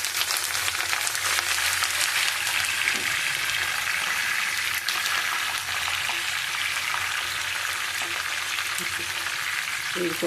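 Curry leaves crackle and sizzle in hot oil for a coriander pickle. The frying is loud and steady and lasts the whole stretch, with a few faint clinks of stirring underneath.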